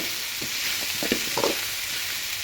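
Bitter gourd pieces sizzle in a hot pan while being stirred, a steady soft frying hiss broken by a few brief scraping stir strokes near the middle.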